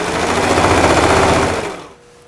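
Sewing machine running steadily as it stitches a long quilt strip set along a scant quarter-inch seam, a dense continuous whirring rattle that slows and stops near the end, with no talking.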